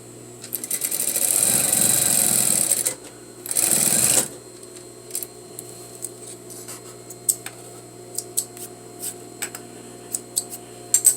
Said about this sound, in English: I'm going to sew again a 1/2 inch seam